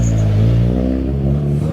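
A rally car sets off from the start of a stage on the RAC Rally in Wales, its engine revving loudly and close by with a strong, steady harmonic drone that climbs and holds as it pulls away.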